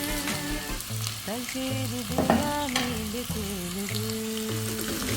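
Ginger, cinnamon, curry leaves, green chilli and onion sizzle steadily in hot oil as a spoon stirs them, with a continuous close frying hiss and occasional scraping strokes against the pan, no talking.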